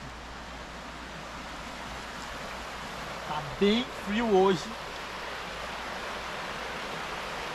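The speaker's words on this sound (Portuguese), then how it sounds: "É um riachinho, não é uma cachoeira." A small stream at a campground in Rio dos Cedros flows with a soft, steady, even hiss throughout, while a voice speaks briefly near the middle.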